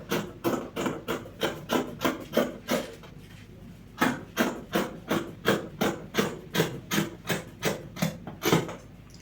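Scissors cut through fabric for a monostrap dress with puffed sleeves in a run of quick, rhythmic snips, close and crisp, pausing briefly midway before the steady snipping resumes.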